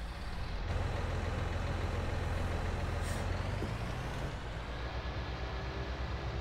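Massey Ferguson S Series tractor in Farming Simulator 19 runs with a steady, droning engine rumble throughout, even and continuous with no talk over it.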